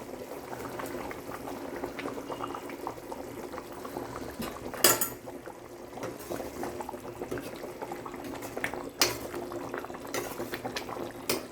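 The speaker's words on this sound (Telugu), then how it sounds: "ఇది ఉడకాలి, ఇక 15 నిమిషాల దాకా ఉడకాలి" Curry bubbling and simmering in a pot, a steady close bubbling texture with a couple of brief sharper clinks or splashes, no voices.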